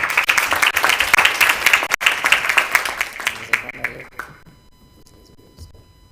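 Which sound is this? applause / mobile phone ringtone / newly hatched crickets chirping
applause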